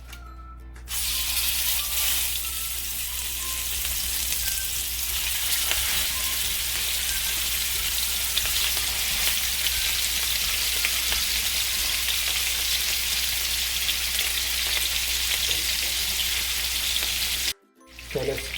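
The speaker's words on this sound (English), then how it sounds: "Start frying the patty." Steady, loud sizzling of burger patties frying in a hot pan, continuous and close, cutting off abruptly near the end.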